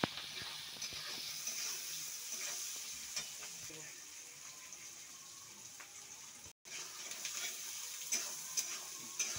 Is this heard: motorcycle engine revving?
no